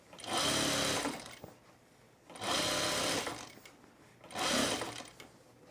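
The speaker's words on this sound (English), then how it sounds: "We're going to understitch this." A sewing machine understitches flannel in three separate bursts of fast whirring stitching, each lasting about a second, with short pauses between them. The sound is close and clear.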